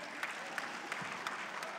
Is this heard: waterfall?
no